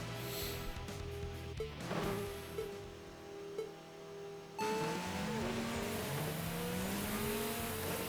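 GTR cars race in the video game TXR, engines revving and whining through gear shifts, then climbing to a sustained high-pitched roar as they accelerate.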